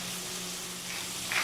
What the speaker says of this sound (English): I'm going to go ahead and add in my chicken. Yeah, starting to sizzle right away